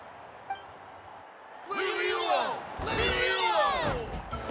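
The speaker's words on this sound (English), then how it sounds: "The exhilarating cheers of the crowd." In Genshin Impact, after a quiet start, a loud crowd erupts into cheering and yelling, a dense, sustained roar of many voices that swells and continues to the end.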